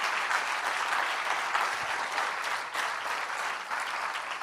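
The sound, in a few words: congregation applause in church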